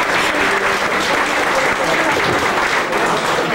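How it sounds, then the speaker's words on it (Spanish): An audience at a meeting of the Mexican Electricians' Union breaks into dense, steady applause for a guest, a close wash of many hands clapping with a murmur of voices beneath. "que le pido un fuerte aplauso"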